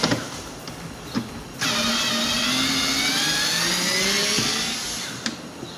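A power driver whirs steadily for several seconds, backing out Torx 25 screws from the rear window motor of a Dodge Journey, a close, bright motor whine between short bursts and clicks.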